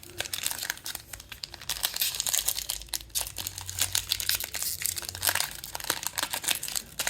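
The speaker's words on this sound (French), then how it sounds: "des paquets qui s'ouvrent pas bien" Plastic trading card pack wrappers from a retail box of basketball cards are torn open close up, giving a dense run of crinkling, crackling rips and rustles that carries on without a break.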